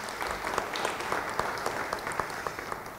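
A church congregation claps together during a sermon, a steady dense round of applause heard throughout at moderate volume.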